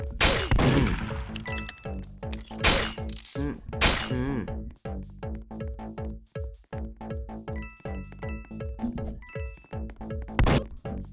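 Rapid bursts of loud, close gunshots ring out in the Roblox game Murder Mystery 2, irregular cracks and pops mixed with clinking game effects and a musical tone, no talking.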